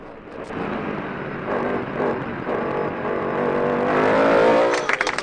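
A Norma sports racing car with a 4-litre engine climbs a hill course at a French mountain championship, its engine howling loud and near, revving and rising in pitch through gear changes.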